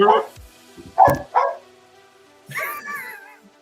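A dog barks in a few short, close bursts indoors while people chat nearby, with quiet gaps between the barks.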